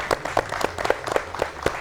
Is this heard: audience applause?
yes